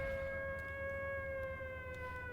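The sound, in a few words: air raid sirens at airbase in IL-2 Sturmovik video game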